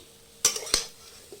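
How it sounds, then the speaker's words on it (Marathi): Egg bhurji is scraped from a pan onto a plate, two sharp metallic clinks of a spatula against cookware, then a faint tap, in a quiet room. "तर मी आता ह्या प्लेटमध्ये काढून घेते।"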